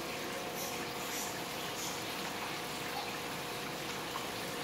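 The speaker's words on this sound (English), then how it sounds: "We siphon the water into a 55 gallon garbage can." Aquarium water flows through a siphon into a 55-gallon garbage can in a fish room housing cichlids, a steady soft rushing wash that stays even for the entire clip.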